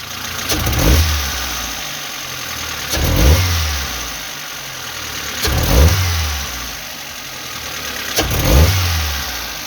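A Geely CK car engine runs with four repeated revs, each a loud surge that rises and falls about every two and a half seconds over a steady idle, with uneven misfiring popping along the way.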